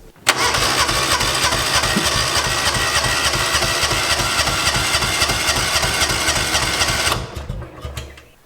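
A Kawasaki Mule 600 utility vehicle engine cranks over and over without catching, a steady rhythmic starter churn running loud and close for about seven seconds before it cuts off.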